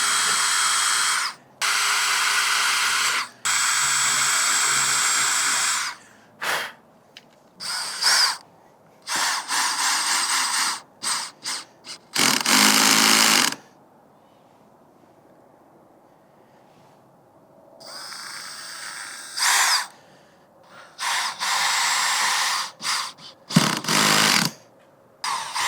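A power drill drives screws into warped, buckled wood at a DIY skate spot, sounding in loud repeated whirring bursts of varying length separated by pauses, including one long quiet stretch in the middle.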